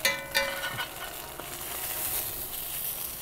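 NY strip steak sizzling in a Lodge cast iron pan cooked in an Ooni Koda 16 pizza oven, a steady soft hiss of frying fat with a few brief pops near the start, fairly quiet and continuous.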